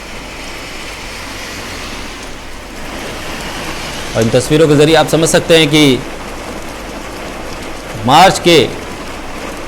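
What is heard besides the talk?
heavy rain in Delhi NCR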